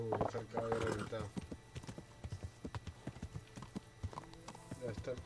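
Horse hooves clip-clop steadily in a video game, a quick rhythmic series of close hoofbeats, with someone talking over the first second.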